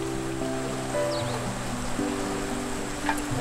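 A small stream flows steadily beside a spot where stripped hemp bark is laid out to dry, a continuous outdoor water rush heard alone.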